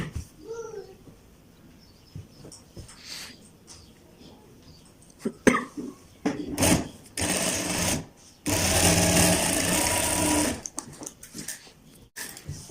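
A sewing machine stitches a child's kurta, running in two sustained bursts of steady whirring near the end, preceded by handling clicks, rustles and short taps of fabric work.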